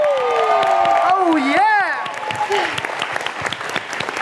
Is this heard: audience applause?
yes